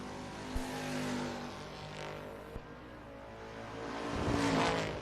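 Drag race cars, a 1979 Camaro and a 1972 Nova, launching side by side at a bracket race, engine roar building steadily with sharp transient pops, rising louder toward the end as they pull away.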